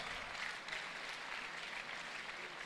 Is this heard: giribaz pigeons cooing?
no